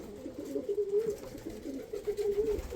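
Pigeons coo in a hot, draughty loft, soft repeated rolling calls that swell and fade in a low steady rhythm, close by, with faint background rustle.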